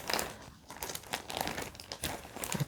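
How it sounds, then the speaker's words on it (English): Crinkly plastic or paper wrapping handled while working in a Bob Ross coloring book, a close, soft rustle and crackle that flutters in irregular bursts throughout with no voice. "I'm sorry if you don't like crinkly sounds"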